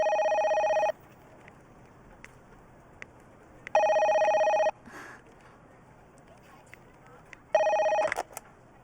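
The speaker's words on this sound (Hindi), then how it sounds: "फोन है" Three loud bursts of an electronic telephone bell ring at a steady interval, each lasting about a second with quiet gaps between, close and clear indoors.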